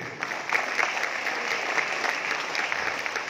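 An audience claps at a press meet in Malaysia for the Rockstar DSP Oo Solriya Tour, a bright, even sheet of applause holding steady from start to finish.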